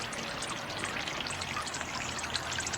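Water gushes and splashes steadily from a broken irrigation line in a broad hiss, a constant rushing flow at moderate distance with no talking.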